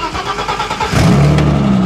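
A dead car, just jump-started, cranks briefly before its engine catches and settles into a steady idle, heard up close.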